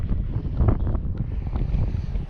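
Steady wind blowing across a frozen lake during ice fishing, a constant low rumbling buffet against the microphone with no break and no talking.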